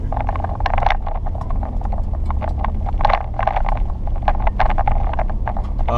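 A 2017 Ford Raptor truck rolls along a gravel road, its low engine rumble steady beneath constant crunching, rattling and scraping from loose stones under the tires, close and continuous throughout.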